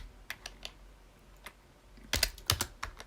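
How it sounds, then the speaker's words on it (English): Keystrokes on a computer keyboard: a few scattered light taps, then a quicker cluster of sharper, louder clicks near the end, close and clear with no talking over them. "I will type it in."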